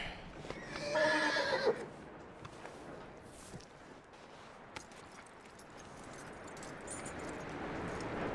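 A horse in the video game Red Dead Redemption 2 whinnies with a bright, wavering call early on, then fades into a noisy outdoor ambience with scattered clicks and thuds.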